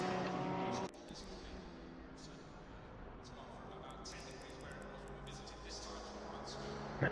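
An onboard Porsche race car engine in Assetto Corsa Competizione at Suzuka drones steadily at a constant pitch after a brief louder burst at the start, with a commentator talking over it.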